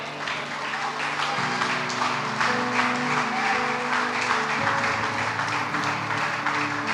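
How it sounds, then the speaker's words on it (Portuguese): Worshippers at a Pentecostal-style church service clap in praise, a steady wash of many hands over sustained keyboard chords that shift pitch partway through, loud and continuous. "Pronto, e as palmas, louve a Deus."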